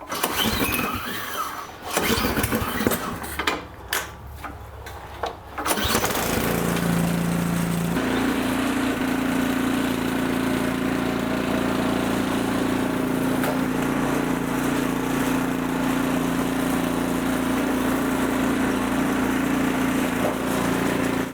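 A small LCT engine on an Ariens snowblower sputters and catches after a few seconds of clattering, then settles into a steady, droning idle that runs on, close by.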